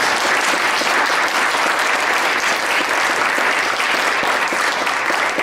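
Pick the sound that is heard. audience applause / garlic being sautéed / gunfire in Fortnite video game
audience applause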